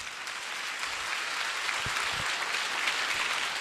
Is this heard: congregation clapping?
yes